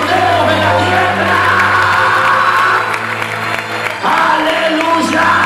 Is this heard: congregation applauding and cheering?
yes